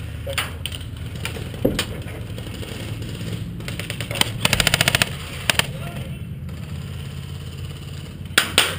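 Airsoft guns fire during an outdoor skirmish, with scattered single pops and a short rapid burst in the middle, clicking and snapping fairly close, with murmuring voices in the background.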